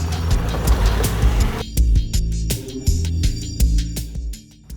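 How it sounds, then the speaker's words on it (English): A Honda Talon 1000X-4 side-by-side rumbles along a trail, its engine loud and close, throttling up and down with surging revs and a few sharp bumps and knocks. "The Honda Talon is very quick off the line."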